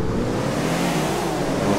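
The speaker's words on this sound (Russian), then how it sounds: "Жми на газ!" A car engine in Grand Theft Auto IV revs hard and steadily, a loud continuous roar with a rising, straining tone and no voices over it.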